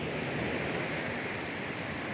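Sea waves washing on the beach at Nasugbu, Batangas make a continuous broadband rush of surf, steady and fairly loud, with no talk.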